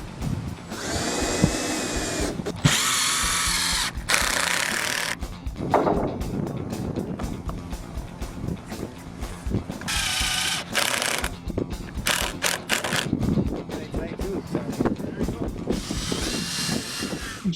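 A power drill drives GRK structural screws into wood joists on a house job site, with several whining bursts of drilling separated by pauses, and someone talking between and over them.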